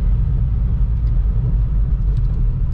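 A Honda Civic Si rolls over a speed bump with a worn front suspension, heard from inside as a steady low road and engine rumble, loud and close, with faint knocks that are hard to pick out.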